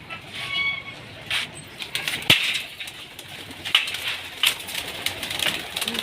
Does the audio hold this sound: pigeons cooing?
yes